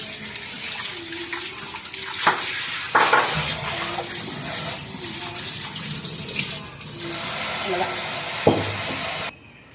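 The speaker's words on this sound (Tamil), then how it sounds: "இதில் இருக்கிற மண் தூசி இதெல்லாம் போகணும் அதனால் நல்லா தேய்ச்சி கழுவிடணும்" A stone grinding mortar scrubbed and washed under running water, a continuous splashing flow with occasional knocks and scraping close by, over a faint voice.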